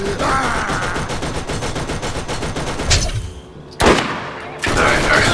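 Rapid automatic gunfire in the video game Borderlands rattles in a dense, continuous burst, breaks off, then returns in sharp loud volleys, with game sounds and brief pauses between.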